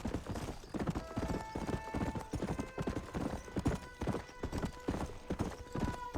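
Horse hooves clip-clop at a steady galloping rhythm in the Western video game Red Dead Redemption, close and continuous, with game music tones and an occasional whinny layered over the beats.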